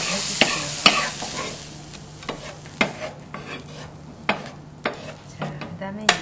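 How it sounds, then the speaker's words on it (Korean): Zucchini stir-fried in a pan for Korean bibimbap gives a steady close sizzle, with repeated sharp scrapes and clacks from stirring all the way through. "호박도 볶아서"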